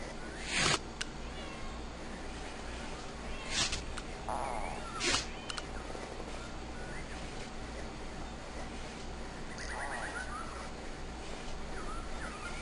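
A cat meows a few times indoors, short faint cries in the middle and near the end over a steady hum with a few sharp clicks.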